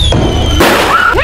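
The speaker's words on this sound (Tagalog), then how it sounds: "Fireworks pala." Fireworks bursting during a family's excited welcome for a newborn baby: a sharp broadband blast midway, with thin whistling, squealing streaks rising before and after it against steady background noise.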